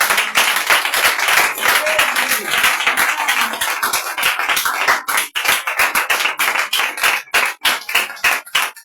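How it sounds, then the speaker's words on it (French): A church congregation at a prayer and fasting revival service claps hard in acclamation, producing loud, dense, fast applause that fills the whole stretch and breaks into sharper, more rhythmic claps near the end, with voices faintly mixed in. "Acclame le Seigneur Jésus."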